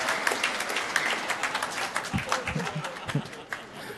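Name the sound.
audience clapping loudly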